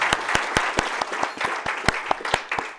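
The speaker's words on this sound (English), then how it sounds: "So how about a big round of applause for Trendiction?" Conference audience applauding a sponsor at a business workshop, brisk, fairly close claps in an uneven patter over a soft crowd wash.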